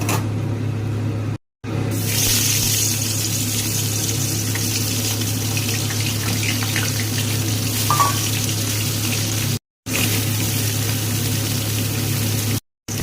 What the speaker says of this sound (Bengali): তেল গরম হয়ে গিয়েছে, এবার এক এক করে সমস্ত মাছকে তেলের মধ্যে ছেড়ে দেব।